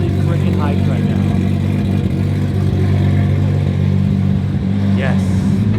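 A Nissan R32 GTR engine runs with a loud, steady, throaty drone in a workshop after repairs, holding an even note throughout while someone talks over it.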